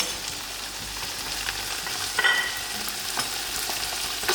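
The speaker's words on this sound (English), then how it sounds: "Now I will add in my masala to cooking all together." Masala and soft chicken pieces frying in a pan for chicken biryani, a low, steady sizzle with soft scraping of stirring throughout and a few brighter crackles midway, no voices.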